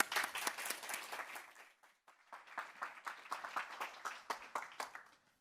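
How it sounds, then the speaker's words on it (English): Audience applause at a tech conference talk on low-code integration with Adobe Commerce, a dense burst of clapping that dips briefly near the middle, then resumes in uneven waves before fading. "Please give a huge round of applause for Colin."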